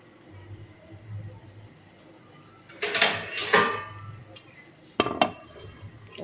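A lid goes onto a pot of taro curry (oler tarkari) with a few close metallic clanks and a rattle, followed by a sharp knock, over a faint low hum.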